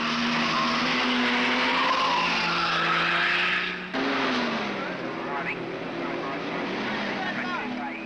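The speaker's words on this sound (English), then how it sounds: "Moffat flashes by, increasing his margin as Brown takes the Charger back onto the track." Race cars at the 1971 Bathurst race, including a Charger, roar past loudly and continuously, with engine pitch shifting as they go by and a brief dip midway, under a commentator's voice.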